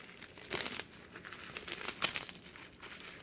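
Bubble wrap is peeled slowly off a freshly unmolded bar of homemade honeycomb soap, giving soft, close crinkling and tearing with a few sharper crackles.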